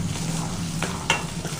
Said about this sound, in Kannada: ಈರುಳ್ಳಿ ಎಷ್ಟು ಫ್ರೈ ಆಗ್ತಾವೋ ಅಷ್ಟು ರುಚಿ ಸಿಗ್ತದೆ